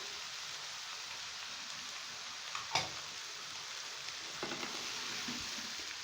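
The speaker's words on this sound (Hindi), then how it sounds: "मैं इसमें वेजिटेबल ऐड करूंगी। साथ ही प्याज भी डाल दूंगी।" Vegetables and onion fry in a pan for aloo gobi, giving a steady close sizzle with a few sharp clicks and scrapes of stirring partway through.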